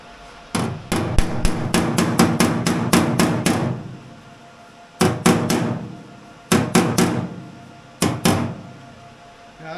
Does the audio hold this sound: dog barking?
no